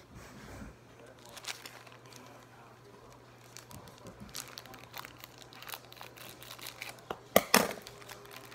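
A basketball trading card pack is torn open by hand, giving quiet crinkling and rustling of foil wrapper, then a brief, louder burst of tearing and crunching near the end.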